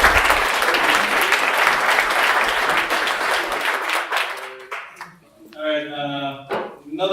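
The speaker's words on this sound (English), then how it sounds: "Another round of applause for everyone and our speakers." Applause from a tech meetup audience on industrial IoT in manufacturing, loud and dense for about four seconds, then thinning out as a voice speaks over the last scattered claps.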